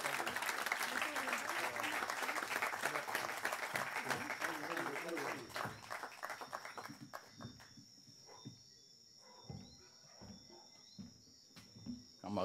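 Audience applause at a campaign-launch political meeting, dense clapping for about seven seconds before thinning into scattered claps and quiet, with a steady high electronic tone running underneath.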